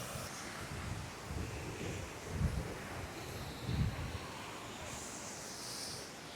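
A small waterfall spills over rocks in Munnar, Kerala, giving a steady, soft broadband rush of falling water with a couple of brief low thumps partway through.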